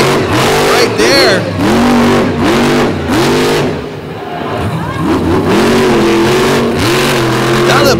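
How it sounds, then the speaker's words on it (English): Loud monster truck engine revving repeatedly in rising and falling surges, raw and roaring with crackling bursts at an arena show, with a commentator talking over it. "The engine burping, a little bit of flame right there."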